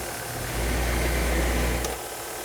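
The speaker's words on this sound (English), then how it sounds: "I'm going to turn on my dust collection." A workshop dust collection system switches on beside a 6x48-inch stationary belt sander, a steady low motor hum and rush of air rising at switch-on and holding loud and close before dropping off near the end.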